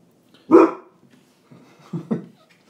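A dog barks indoors during a gamers' talk show recording, one loud close bark followed by two softer barks about a second and a half later, with quiet room noise in between.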